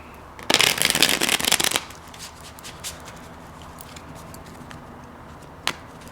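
A deck of tarot cards riffled in a quick, loud burst lasting about a second, followed by quiet handling with a few soft taps and one sharp click near the end.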